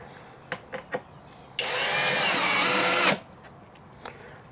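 A power drill driving a screw into wood for a solar wax melter build, one steady whirring burst of about a second and a half, close and loud, after a few light clicks and knocks.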